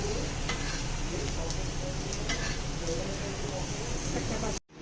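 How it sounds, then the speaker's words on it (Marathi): Coriander seeds and bay leaves dry roasting in a pan for a mutton masala, a constant close rustling hiss with scattered stirring scrapes and clicks, ending abruptly. "धणी, तेजपत्ता छान फक्त भाजून घेऊया।"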